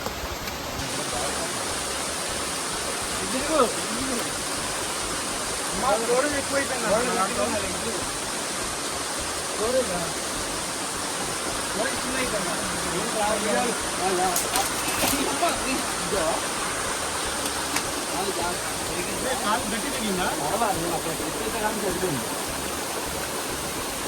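A waterfall in the Kondapalli hills roars as a constant broad hiss of falling water, loud and close, with people talking over it throughout.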